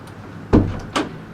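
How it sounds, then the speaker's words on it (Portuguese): A door being shut, one solid thud followed by a second lighter knock of the latch a moment later, close and fairly loud over quiet room tone. "Só bater a porta."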